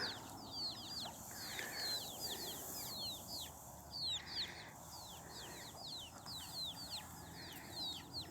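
Chickens in a rural coop, over two hundred birds bedding down in the cold, giving repeated quick chirps and calls that carry on steadily at a moderate distance over a soft background wash.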